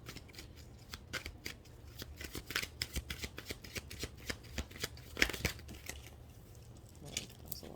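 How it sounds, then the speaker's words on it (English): Tarot cards being shuffled and flipped at close range, giving quiet, irregular bursts of riffling, snapping and papery flicks that continue steadily without speech. "that was a lot of cards that flipped over"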